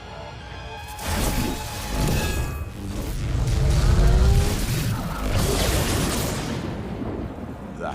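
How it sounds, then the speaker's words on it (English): A lightning strike from a Thor superhero movie rumbles and crackles in a loud, dense burst of thunderous noise that swells and fades over several seconds, heavy and booming throughout. "That's the sound of lightning."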